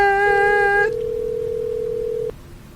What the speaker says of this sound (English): why don't we just give Parvin Schmutzenberg a call?